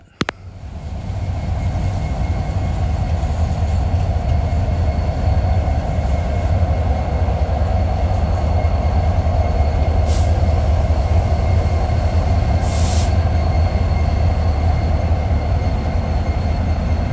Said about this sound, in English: While the manifest passed by entering the yard